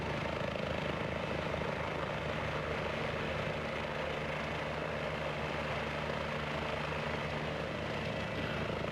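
A Nemeth Designs S-76 helicopter in a flight simulator game drones with a steady, dense engine and rotor rumble, constant and moderately loud throughout, with no speech.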